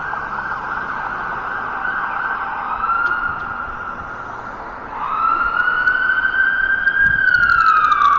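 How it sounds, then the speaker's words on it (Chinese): An ambulance siren on a downtown Toronto street wails steadily with a long held tone, then swells louder and nearer with rising and falling pitch over traffic hum. "救护车的声音啊"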